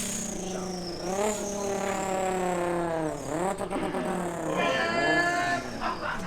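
A car engine revs hard in a rev battle beside a Mustang, rising and falling in repeated loud, close bursts with a screaming high whine, heard alone and without talk.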